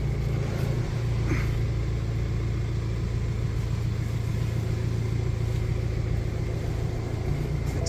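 A BMW car with an N47 diesel engine runs steadily as it is driven slowly into a garage, a constant low rumble at moderate loudness with no talking.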